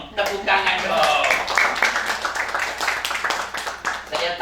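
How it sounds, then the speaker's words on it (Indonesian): Congregation clapping hands during an Indonesian church service, a steady patter of claps running under a man's continuous speech. "Beri dong tepuk tangan dong."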